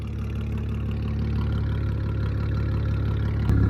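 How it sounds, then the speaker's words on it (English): An Audi S4 B8.5 idles with its ARMYTRIX catback exhaust valves open, a loud, steady, deep burble pulsing evenly up close, with a brief sharp click near the end. "this is the idle with open valves"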